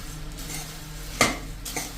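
Roasted puffed rice being stirred in oil in a pan on the stove, with a soft steady scraping and a couple of sharp utensil clinks against the pan, no voices.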